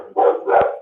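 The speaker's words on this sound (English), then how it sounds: "Apologies about the dog." A dog barks twice in quick succession at close range, loud, short sharp yips during a football pregame talk show, with no talking over it.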